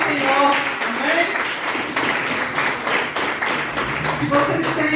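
Church congregation clapping during worship at an evangelical prayer house, steady rhythmic claps mixed with singing and voices throughout, moderately loud and close.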